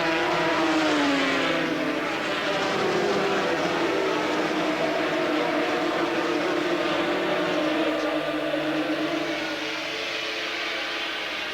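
500cc Grand Prix racing motorcycles at Silverstone in 1981, a pack of engines blending into a loud sustained high-pitched whine that slowly shifts pitch as they pass.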